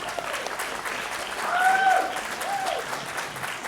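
An audience at a forum for Senate District 31 candidates claps for a candidate, a steady wash of applause that swells briefly in the middle before easing, with a faint voice buried in it.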